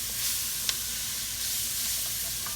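Mushrooms sizzle steadily in an oiled pot while being cooked down for smothered beef tips, a soft continuous frying hiss with a single sharp utensil clink near the start.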